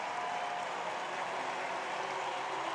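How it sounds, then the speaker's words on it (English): A large crowd cheers and applauds steadily from the stands as an athlete runs the home straight of a Paralympic men's 5000m T54 wheelchair race at the Rio 2016 Games, a dense, even roar with no break. "he'll be cheered to the echo here"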